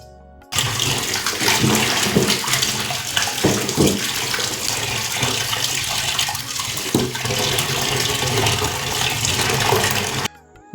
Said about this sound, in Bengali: মাংসটাকে না খুব ভালো করে ধুয়ে নিয়েছি, একদম 2-3 বার জল পাল্টে পাল্টে ধুয়ে নিয়েছি।